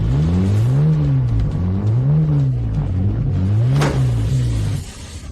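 A car driving too fast with its engine revving, a loud close rumbling drone that rises and falls in repeated waves, then drops away at the end.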